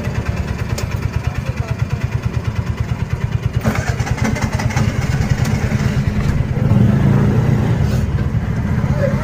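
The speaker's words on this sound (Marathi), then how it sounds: "मटेरियलवाले गाडी आली वाटतं." A building-material supplier's delivery vehicle arrives, its engine rumbling close and loud in a fast, steady throb that grows slightly heavier near the end.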